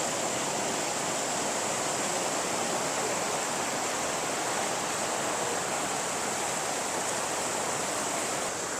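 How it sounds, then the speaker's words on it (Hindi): Meltwater from under a glacier near Shahzore Lake rushes past as a stream, giving a steady, even roar that fills the whole stretch without pause. "यहाँ से आप देख सकते हैं इस ग्लेशियर्स के नीचे से पानी बरामद हो रहा है"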